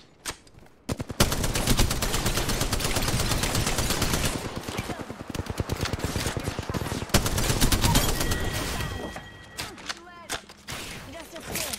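Rapid automatic gunfire in an online shooter video game, dense bursts of shots from close range running almost nonstop, easing off near the end.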